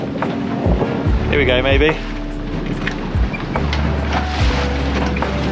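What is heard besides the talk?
big waves hitting small sailboat side on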